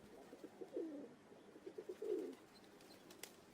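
Pigeons coo in two low, throaty bursts, each a run of soft pulsing calls, with quieter cooing between them; the calls sound close, with no talk.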